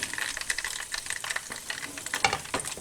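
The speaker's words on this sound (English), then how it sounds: "And here are the fish balls sizzling away." Fish balls fry in a pan, giving a dense, close crackling sizzle with quick popping bursts that carry on steadily throughout.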